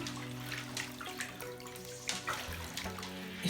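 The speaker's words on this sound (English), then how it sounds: "you just swish and swish and swish and swish and swish until all the soap is gone" Dreadlocks swished through a basin of water to rinse out soap, giving quiet sloshing and splashing with gentle ripples over a low hum, close by and with no talk.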